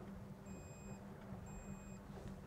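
A Simrad Command integrated control system aboard a Pirelli 42 boat sounds a fault alarm: two clear, evenly spaced electronic beeps, each about half a second long, over a steady low hum of onboard machinery.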